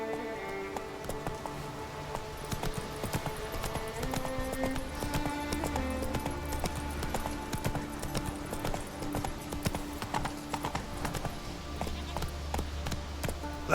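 A horse gallops in The Witcher 3 video game, with fast, even hoofbeats that continue throughout over soft background music.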